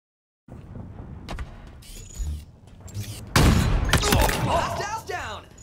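Sniper rifle fire in an Xbox Series S shooter game: a sudden loud blast partway through, followed by a roar and mechanical rattling, with quieter game sounds and clicks before it.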